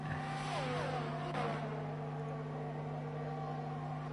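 Formula 1 race cars in the F1 24 video game accelerate side by side toward Copse Corner at Silverstone, their engines whining high and rising through the gears, with a steady low drone underneath.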